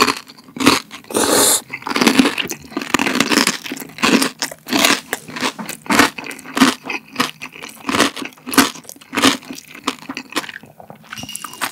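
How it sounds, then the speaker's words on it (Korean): Loud, close crunching of crispy pork belly skin, with sharp repeated bites and chewing in an irregular rhythm and no talking. "방금 크리스피한 돼지 껍데기만 먹었잖아요"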